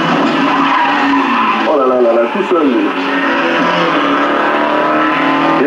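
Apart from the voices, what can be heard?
stock car race cars skidding and revving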